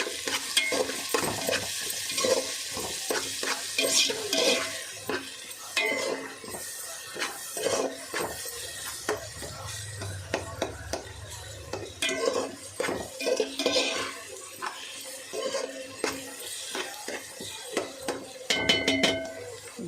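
Onions with a little salt stirred and softening in a pan, with repeated scraping and clinking of a spoon against the metal over a low, steady sizzle, close by and without talk.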